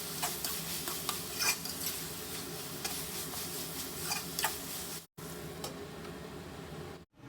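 Chilli powder and coriander powder stirred into tomatoes softening in oil for a drumstick curry, a steady quiet sizzle with soft ticking spoon scrapes, close up and without speech, briefly cutting out twice.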